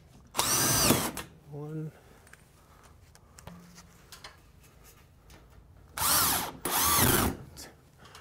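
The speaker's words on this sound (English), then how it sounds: "And we just put it up with drywall screws." A power drill driving drywall screws into a ceiling: loud, close whirring bursts, one near the start and two more near the end, separated by a quieter stretch in which a voice briefly speaks.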